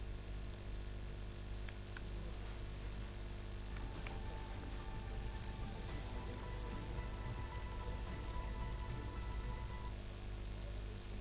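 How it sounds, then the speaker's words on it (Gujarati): Steady rain falling on surfaces, a constant faint hiss with scattered drop ticks and low rumble underneath, no distinct thunder crack, no talk. "વરસાદ પડી રહ્યો છે, જેમાં વીજળીના કડાકા સાથે અનેક જિલ્લાઓમાં વરસાદ થયો છે"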